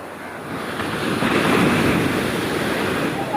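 Rough sea waves roll and crash along the coast at Mundakkal during a sea surge, a loud broad roar that swells and recedes continuously, with wind buffeting the microphone and no clear talk.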